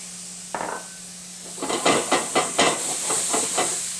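Onions and a pat of butter sautéing in a pan, a hissing sizzle that rises as the food lands, then a rhythmic series of close scraping stirs over steady frying noise.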